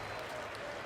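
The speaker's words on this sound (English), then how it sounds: "At the United Center, Chicago fans are cheering for their Bulls." Chicago Bulls fans cheering and clapping at the United Center arena in NBA 2K24, a dense, steady wash of applause and crowd noise.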